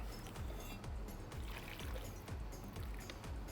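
Water is poured over two tomatoes while cooking, a continuous splashing trickle with regular gurgling pulses, close and moderately loud, with no talk.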